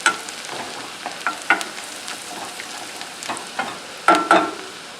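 Chopped garlic, about three cloves, sizzles in melted butter in a pan, with a steady crackle under repeated scraping stirs and clinks of a utensil, close and alone.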